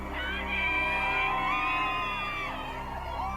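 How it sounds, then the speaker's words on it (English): A crowd of Johnny Depp fans gathered outside a Virginia courthouse, cheering and whooping in a steady, dense roar of many voices with high shouts rising above it throughout. "Outside the Virginia courthouse, Depp fans gather to cheer on their hero."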